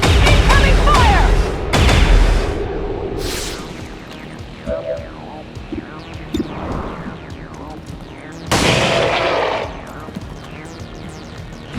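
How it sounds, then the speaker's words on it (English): Gunfire in XCOM 2: War of the Chosen: loud bursts of shots and booming impacts near the start and again later, mixed with game voices and battle noise. "Incoming fire!"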